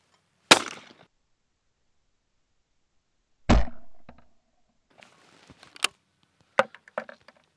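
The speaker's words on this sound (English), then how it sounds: "I'm going to shoot this target how I normally would with the sustained lead on it and break it a couple times" Sharp shotgun blasts at clay targets on a shooting range: a loud crack opens, a second report follows about three seconds later, then scattered fainter clicks and knocks trail off, with no voices.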